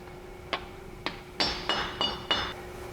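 An axle cap being tapped into place on a 2007 Chevy Silverado 2500, five or six sharp metallic taps close by, the last few quicker and louder, over a quiet hum.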